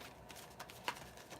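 Tarot cards riffle and rustle in a brief, soft shuffle, close and quiet with a small snap partway through.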